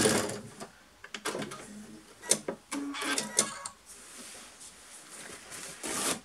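A sewing machine stitches across carrycot fabric backed with tearaway stabiliser, running in short close mechanical bursts separated by brief pauses, with no talking.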